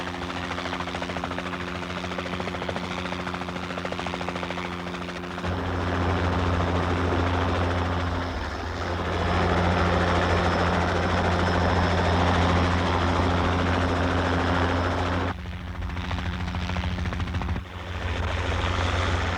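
A helicopter airlifting material ashore on Clipperton Island: heavy rotor thumping and engine roar fill the air continuously, loud and near, the pitch and intensity shifting as it maneuvers.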